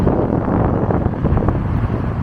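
Strong wind buffets the microphone on a bridge over the Red River in Lao Cai, Vietnam, a continuous, roaring rush, loud and close with uneven gusts.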